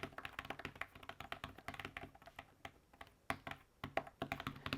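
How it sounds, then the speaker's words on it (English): Rapid typing on an iPad Pro 9.7 Smart Keyboard cover resting on a lap, with soft, close, fairly quiet key taps in quick irregular bursts throughout. "let's take a look at some typing now"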